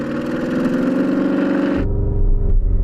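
A Porsche Cayenne Turbo GT engine held at a 4,000 RPM soft limiter on launch control, a loud steady droning rumble that suddenly drops into a deeper, heavier roar near the end, with no talking.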